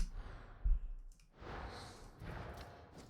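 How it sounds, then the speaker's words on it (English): A man yawns close to the microphone, a long, drawn-out breathy exhale, then softer sighing breaths with a faint click in between. "I really shouldn't be yawning, but I am yawning because unfortunately I have been losing sleep"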